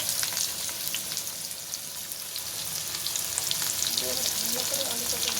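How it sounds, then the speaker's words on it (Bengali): Potatoes frying in hot oil for a katla fish curry, a continuous close crackling sizzle with faint stirring clatter toward the end. "এবার ভালো করে আলুটা ভেজে নেব"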